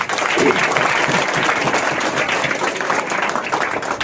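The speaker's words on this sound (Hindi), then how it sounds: "मैं आपसे गुजारिश करूंगा कि एक जोरदार तालियां बजाइए" Audience at a Hindi poetry gathering (kavi sammelan) giving a loud, steady round of clapping, continuous and evenly dense throughout with a brief voice audible early on.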